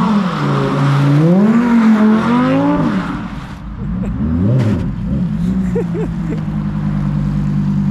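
An all-wheel-drive car spins tight donuts on a wet surface, the engine revving up and down in loud swells for several seconds before settling into a lower idle-like hum, with faint talk.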